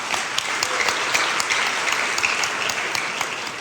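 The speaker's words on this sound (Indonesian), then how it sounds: "Tepuk tangan." A crowd claps steadily for a few seconds, dense and even applause filling the room.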